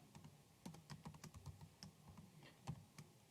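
Rapid, uneven keystrokes on a computer keyboard, a string of close, light clicks and taps with short pauses, no voices over them.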